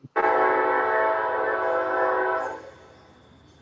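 Train horn sound effect blaring as one loud sustained blast of about two and a half seconds, then cutting off to near silence.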